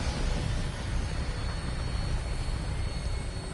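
An aircraft taking off in Fallout 4: a loud, steady engine roar with broad rushing noise and deep low rumble, sustained throughout without a break.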